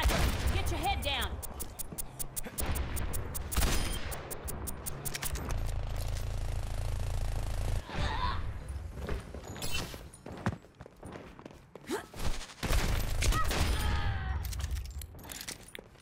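Sniper and other gunfire in the Overwatch video game, rapid cracking shots early on and scattered bursts later, mixed with footsteps, game effects and a voice talking over the action.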